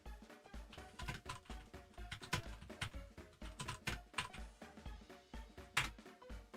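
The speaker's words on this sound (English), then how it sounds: "Fun keyboard noises." Rapid, uneven clacking of a computer keyboard being typed on, close and fairly quiet, with dense bursts of keystrokes and short pauses and no voice over it.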